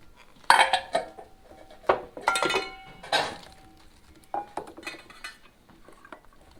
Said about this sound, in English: We're going to start dumping in the veggies.